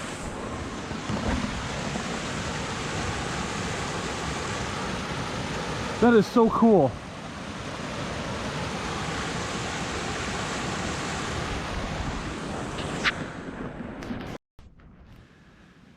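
Meltwater rushes continuously down a frozen creek toward a drain at Amity Creek in Duluth, Minnesota, a close, steady broadband wash with wind buffeting and a person briefly talking over it.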